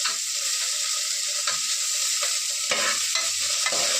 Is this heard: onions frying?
yes